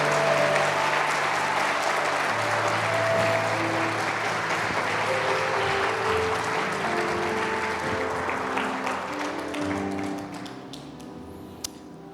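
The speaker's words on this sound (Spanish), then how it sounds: "Si vas a aplaudir, apláudele a Él, porque lo amas," Church congregation applauding steadily in a dense, continuous wash of clapping that carries on for about ten seconds, then thins and fades out near the end with a few scattered claps and a faint background tone.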